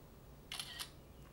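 Blackview BV9900 Pro smartphone camera shutter firing once for a selfie, a quick faint double click over a quiet background hum.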